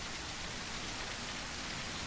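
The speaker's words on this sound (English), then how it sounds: "And then of course it started raining." Steady, even rain hiss in the video game SurrounDead, a dense wash of falling drops without pauses or voices, moderately quiet.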